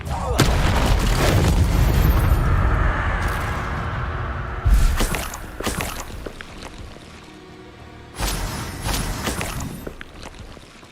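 Incendio fire spell cast in Hogwarts Legacy, a loud booming burst with crackling flame, followed by further spell impacts and whooshes from combat in the game.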